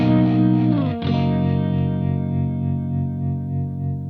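An electric guitar runs through a Keeley Hydra stereo tremolo set to alternating panning. A chord shifts once and then rings out loud and sustained, pulsing gently as it slowly decays.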